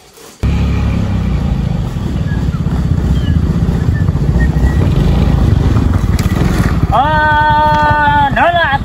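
A motorcycle engine runs steadily and loudly up close, a continuous low rumble, with a rising and falling whine near the end.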